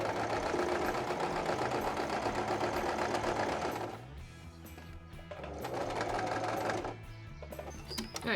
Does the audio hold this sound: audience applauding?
no